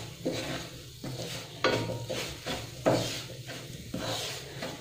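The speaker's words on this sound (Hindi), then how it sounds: "अभी हम रवा को अच्छे से भून लेंगे।" Semolina being roasted in ghee in a pan over low heat for suji halwa, a soft sizzle under repeated scraping strokes of a spoon stirring the grains, about five stirs in a few seconds.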